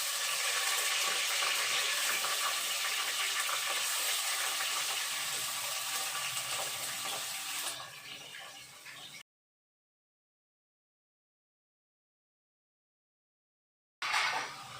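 Chicken pieces frying in hot oil for a chicken curry give a steady, loud broadband sizzle that fades somewhat, then cuts to silence before briefly resuming.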